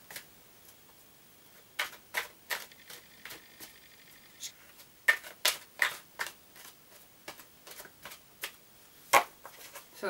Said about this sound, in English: Okay, so I'm just going to shuffle these cards on screen.